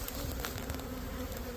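Honey bees buzz at a hive in late February, a dense, continuous hum of many insects close by, steady and unbroken with no talking.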